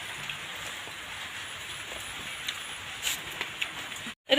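Steady rain patters down outdoors, a continuous hiss with a few louder drops near the end, then a brief cutout.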